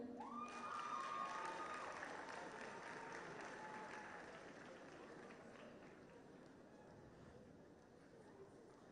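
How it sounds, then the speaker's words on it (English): A large crowd of students at a Nigerian Model United Nations conference applauds a secondary school delegation with dense, sustained clapping and scattered cheers. A voice is briefly audible at the start, and the applause gradually fades toward the end. "A round of applause for Spring Hall British Secondary School."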